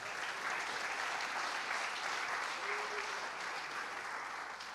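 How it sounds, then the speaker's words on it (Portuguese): A church congregation claps steadily and densely throughout, a sustained wash of applause filling the room with no break, after a call to applaud Jesus during a Portuguese sermon. "Aplauda Jesus."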